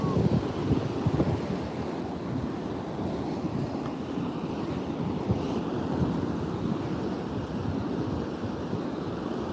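Ocean waves wash onto a beach in a steady, dense roar, continuous and close, mixed with wind buffeting the microphone and no talk.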